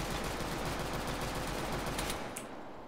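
Rapid gunfire from a pistol in the video game Teardown rattles continuously in a dense, loud burst, then cuts off with a brief ringing tail.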